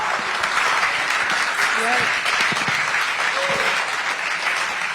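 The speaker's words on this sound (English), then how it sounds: "ladies and gentlemen, a big round of applause once again for Ranveer" An interview audience for Ranveer Singh breaks into sustained applause, a dense steady wash of clapping with some cheering mixed in, loud and continuous throughout.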